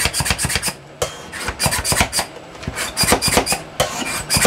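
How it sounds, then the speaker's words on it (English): Rapid, repeated rasping chops in quick bursts as peaches are cut with a hand chopper, a steady rhythmic scraping and clacking close by, with brief pauses between runs. "I'm going to start chopping."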